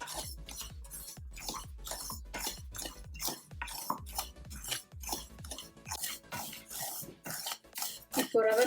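A spoon scrapes and clinks steadily against a pan while rava semolina roasts, a rhythmic run of quick, close stirring strokes with no talk.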